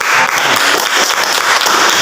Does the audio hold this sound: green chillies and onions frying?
no